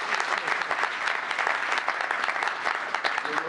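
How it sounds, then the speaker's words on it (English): Sustained audience applause at a mayor's ambassador forum, a dense, even wash of many hands clapping throughout, with some speech mixed in. "Please give me another big round of applause."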